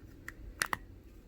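Small plastic parts of a Nonda Zus smart vehicle health monitor mini snapping together, with a faint click followed by two sharper clicks in quick succession, close and quiet.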